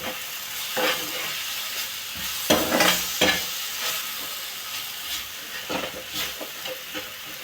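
A half-fried onion and tomato mixture for roasted brinjal bharit is stirred in a hot pan, with loud spoon scrapes and bursts of sizzle in irregular strokes, close up and without talk.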